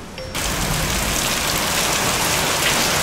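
Heavy rainstorm pouring outside during a thunderstorm, a dense steady roar of rain that starts after a brief quieter moment and then stays loud and continuous.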